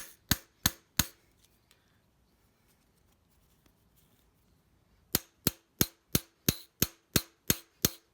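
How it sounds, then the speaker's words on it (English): A mallet strikes the bolts on a 4G63 connecting rod cap in sharp, loud metallic raps: three quick hits, a quiet pause, then a steady run of about eight more evenly spaced blows. "Screw in the bolts a little bit and hit on the bolts."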